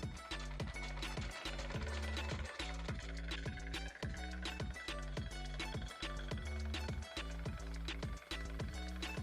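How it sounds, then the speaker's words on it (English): A sewing machine stitches fabric for a smocked crop top with elastic thread in the bobbin, giving a steady, close, rapid mechanical clatter that runs without pause. "Now I'm sewing from the right side."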